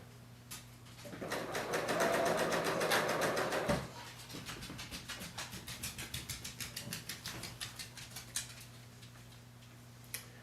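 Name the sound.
Bernina L890 serger sewing machine stitching seam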